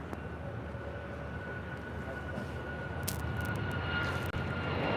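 An American Airlines Boeing airliner landing on runway 25 right at LAX, heard as a steady broad engine roar that holds at an even level throughout with a faint tonal hum.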